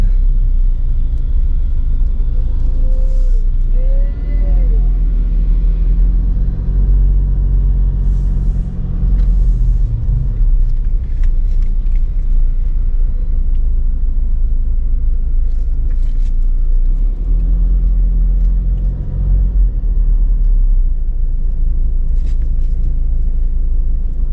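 A truck on the Alas Gumitir mountain road at night rumbles past with a deep, loud engine drone, a brief air-brake hiss and gear changes rising and falling over the steady traffic noise.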